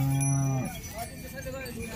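A bull at the Patoda cattle market in Dharashiv district gives one deep, close moo lasting about half a second, followed by a low murmur of market background noise.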